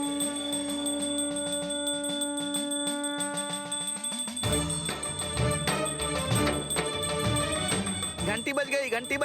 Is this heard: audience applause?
no